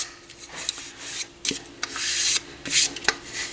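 Rubbing and wiping of sanded wooden side panels from a Pioneer SX-550 stereo receiver, a series of short scraping strokes with brief pauses, close and moderately quiet, no talk.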